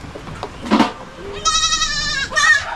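Young goats bleating in a farm pen, a few close, wavering cries after some shuffling, the last bleats louder and higher, with faint voices in the background.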